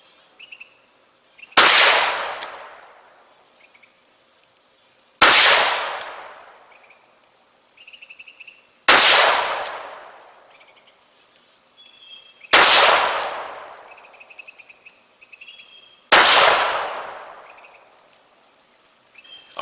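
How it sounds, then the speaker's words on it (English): .357 revolver shots fired at 20 yards ring out as five loud, sharp single reports spaced about four seconds apart, each with a long decaying tail into near quiet. "so I shot the more expensive revolver"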